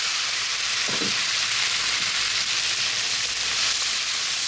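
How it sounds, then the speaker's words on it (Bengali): Onion paste with ginger and garlic paste frying in a hot pan, a steady, loud, continuous sizzle and hiss with a soft clatter of stirring near the start. "এখানে পেস্ট করা পেঁয়াজটা দিয়ে দিব এবং দিয়ে দিব আদা বাটা রসুন বাটা"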